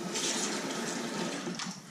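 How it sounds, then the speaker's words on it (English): Tap water runs steadily onto a shaving brush, a continuous close splashing hiss for the whole moment with no talk. "Keep adding water."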